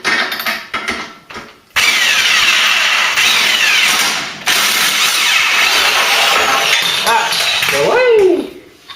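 A stubborn old stud on a Ford Cortina being worked loose with an extractor tool, a loud sustained power-tool whine running in long bursts with brief pauses, and voices talking over it.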